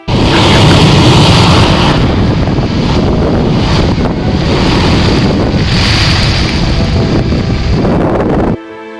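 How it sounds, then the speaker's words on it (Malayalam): Sea water surging and roaring through coastal rock blowholes at Salalah, a loud, continuous rushing wash with buffeting wind noise on the microphone and no voices, cutting off abruptly near the end. "ഈ പ്രകൃതിദത്തമായ ദ്വാരങ്ങളിലൂടെ സമുദ്രജലം അതിശക്തമായി മുകളിലേക്ക് ചീറ്റിത്തെറിക്കുന്നു."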